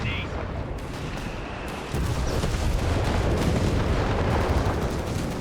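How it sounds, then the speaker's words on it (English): Artillery fire on British positions in the video game Company of Heroes 3: a steady roar of booms and explosions that swells louder partway through, with someone talking over it. "Artillery fire again there on the British positions."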